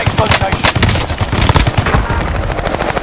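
Heavy gunfire in a first-person shooter video game: dense, loud bursts of automatic weapon fire rattling continuously, close and overlapping, with faint voices underneath.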